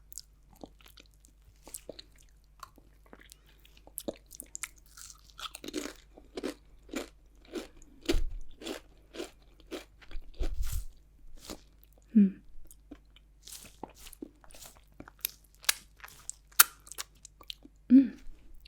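Salt and vinegar crisps eaten close up, with a steady series of sharp crunching bites followed by quieter chewing and small crackles, and no talking.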